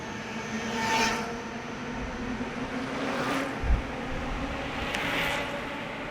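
A Bafang M600 mid-drive e-bike motor under way while riding, giving a steady low whir blended with continuous road and wind rush, and one brief thump partway through.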